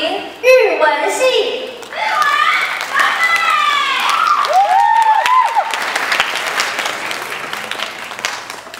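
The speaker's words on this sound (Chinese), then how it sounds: "掌声欢迎日文系" A concert-hall audience at a university choral competition claps for the Japanese department choir, applause swelling and holding steady, with an announcer's voice and stray crowd voices mixed in over the clapping.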